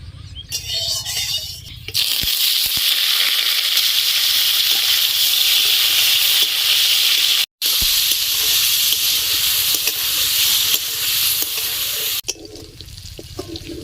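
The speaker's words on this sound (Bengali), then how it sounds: "এবার আমি চিকেনটাকে ভালো করে কষিয়ে নিব" Marinated chicken for chicken pakora fried and stirred in a pan, a loud, steady hissing sizzle running for several seconds, briefly cut once, with quieter moments at the start and end.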